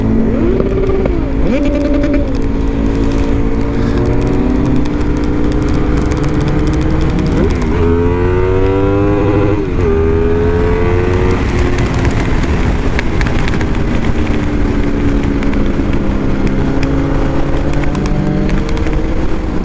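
A Honda VFR 800 VTEC motorcycle engine at full throttle: a loud, continuous close engine roar whose pitch climbs and drops through revs and gear changes for about twenty seconds, with no talking.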